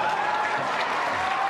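A crowd cheers and applauds in a played recording, a steady dense wash of clapping and voices filling the short moment without letup.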